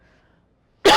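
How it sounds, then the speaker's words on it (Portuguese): A single sharp cough bursts out abruptly after near silence, loud and close, from someone speaking in a cold room. "Essa friagem me deixou tossindo."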